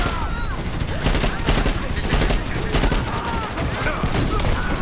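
Continuous rapid gunfire from the Dirty Bomb multiplayer shooter on the Bridge map, loud and close with overlapping bursts throughout.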